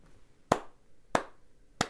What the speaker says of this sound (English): Let me applaud that.